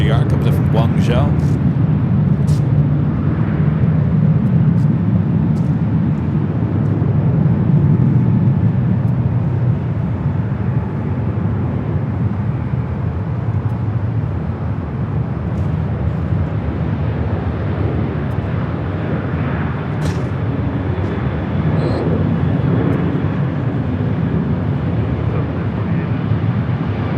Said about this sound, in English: China Southern. This is a passenger 777 at 300ER coming in from Guangzhou.